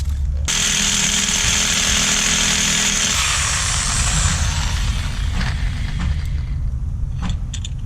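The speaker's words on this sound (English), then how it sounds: "Just drill that out." A power drill bores out an undersized hole in a metal bracket on a 1JZ-swapped 350Z, a loud, close, steady grinding whine that stops abruptly partway through, followed by a few clicks and knocks.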